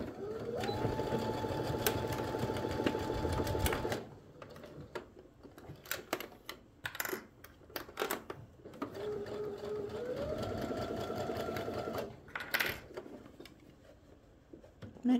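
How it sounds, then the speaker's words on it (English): A sewing machine stitches down the fold line on skirt pieces in two steady runs, the first about four seconds long and the second shorter, separated by clicks and handling noises. "we're just going to sew down that fold line on both of our pieces"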